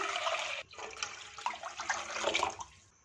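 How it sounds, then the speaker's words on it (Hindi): Water poured steadily into a cooking pan, about four cups, a close continuous splashing gush with a brief break before the stream resumes and tapers off. "एक पैन में तकरीबन 4 कप पानी डाल देंगे।"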